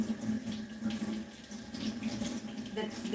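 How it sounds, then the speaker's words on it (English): Running tap water rinses an orchid flower, a steady close splashing flow that continues throughout without a break. "we wash the flower, the orchidea, we wash it, remove all the"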